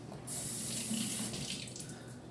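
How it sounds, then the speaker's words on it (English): An avocado is rinsed under a running kitchen tap, a steady close splash and hiss of water that lasts a couple of seconds. "what I'm gonna do is I'm gonna rinse this first, of course."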